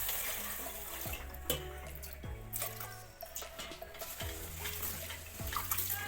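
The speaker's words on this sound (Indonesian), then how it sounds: "Pertama, saya akan mencuci beras terlebih dahulu." Rice washed under a running tap before being steamed: water pours and splashes steadily into a bowl, with repeated sloshing gurgles as the grains are stirred and rinsed, close and fairly loud, with no talking.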